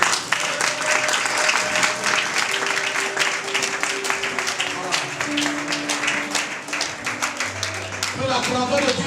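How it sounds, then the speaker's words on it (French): A church congregation at a French-speaking service applauds the Lord loudly, with dense, sustained clapping filling the whole stretch and voices and tones carrying underneath. "On acclame très fort le Seigneur."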